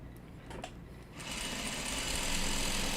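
A sewing machine stitching quilt blocks starts up after a quiet moment and runs in a fast, steady mechanical whir close by.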